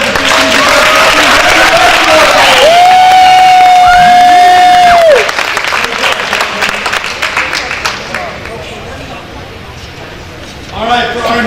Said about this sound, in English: Let's have one more round of applause for 2015.